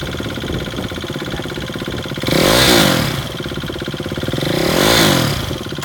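Engine of a used 2016 KTM RC 390 lightweight sport motorcycle idling with a steady close burble, then revved twice, each rev a loud rising and falling sweep, no talk.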